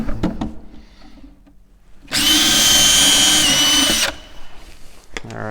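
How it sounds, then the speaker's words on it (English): A power drill boring out a hole whines loudly and steadily for about two seconds, framed by quieter handling knocks and clicks before and after. "so that's drilled out. We'll do our countersinking."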